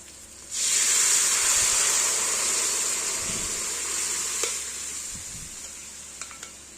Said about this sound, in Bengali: এর মধ্যে এক চিমটে হিং দিয়ে দিলাম এবার ডালটা ঢেলে দেবো